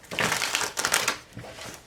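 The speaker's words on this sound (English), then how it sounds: "I'm going to do one more shuffle here for Leo." Tarot cards are shuffled by hand in two or three quick riffling, crinkly bursts, close and fairly loud, with no talking.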